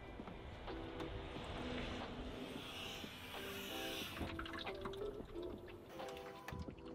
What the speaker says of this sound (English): there's actually water inside the tailgate, which is just going to rust that out